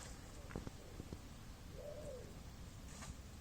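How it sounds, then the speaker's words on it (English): A pigeon coos faintly from a tree beside a carp-fishing lake, one short soft call rising and falling in the middle, with a few light clicks and a steady outdoor hiss around it. "I hear that pigeon."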